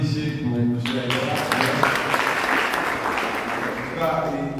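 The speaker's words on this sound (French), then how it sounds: "Applaudissez pour M. Aïdara." Audience applause for M. Aïdara at a gathering of Malian youth: a steady wash of clapping fills the middle few seconds, with a voice speaking just before and after it.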